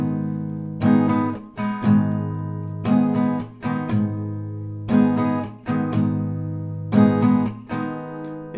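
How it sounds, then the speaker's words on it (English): An acoustic guitar plays the strumming pattern for Ollie's "Holding On", with repeated groups of crisp down and up strums separated by short pauses, in a steady rhythm, close and clear with no voice. "So down, down,"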